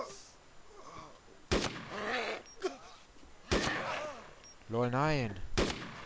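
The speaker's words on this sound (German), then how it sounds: "Du schießt auf die Leiche." Several loud gunshots in the video game DayZ, fired at a corpse at a farm barn, spaced a second or two apart, each sharp crack followed by a brief ringing tail, with voices talking between the shots.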